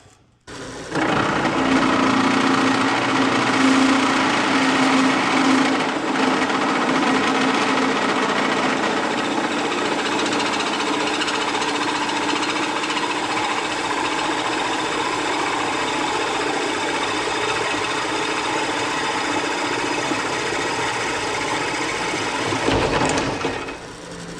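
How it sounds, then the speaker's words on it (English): A steady, high-pitched mechanical whir runs continuously for over twenty seconds, a drill press spinning and boring holes into metal front axle parts, ending abruptly near the end. "I guess the drill press isn't junk now, is it?"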